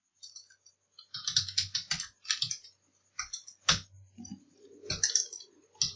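Rapid bursts of keystrokes on a computer keyboard, irregular clusters of close, crisp clicks separated by brief pauses, with no voices.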